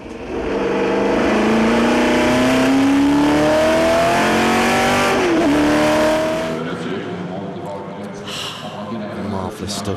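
A classic race car at Le Mans Classic accelerates hard, its engine note climbing steadily through the rev range with a brief gear-change dip before easing off, loud and close with a commentator talking over it.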